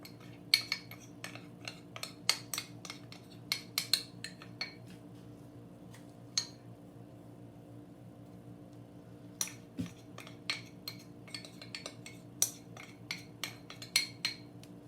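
A whisk or spoon clinks in irregular bursts against a bowl while milk, eggs, cornstarch, sugar and vanilla are mixed for a mille-feuille custard. The sharp ticks come close and clear over a low steady hum, with a quiet pause in the middle.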